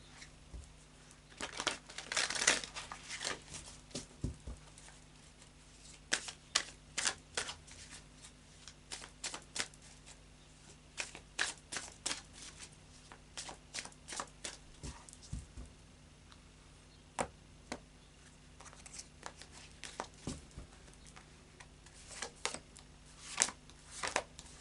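Tarot cards shuffled and handled at close range, a long run of quick, crisp riffling bursts and papery flicks with brief pauses between them, no voices.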